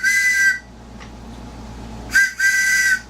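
A handmade maple wooden whistle sounds two loud, shrill blasts: a half-second tone, a pause, then a second blast with a brief break partway through, close and clear over faint background hum.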